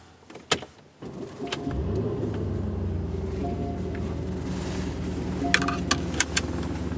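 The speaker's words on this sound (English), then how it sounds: "We'll go ahead and fire it up and take it for a quick spin." A 2011 Porsche Cayenne Turbo starts up: a couple of clicks and a starter crank, then the engine catches and settles into a steady idle rumble. Faint clicks and ticks sound inside the cabin, with no talk.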